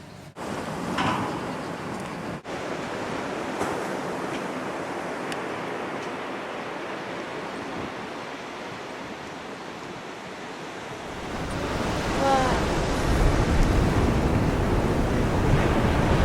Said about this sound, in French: c'est à la plage